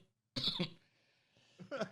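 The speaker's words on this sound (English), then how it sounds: "Everyone's just coughing." People coughing, two separate bursts of harsh coughs with a near, dry quality and a brief quiet pause between them.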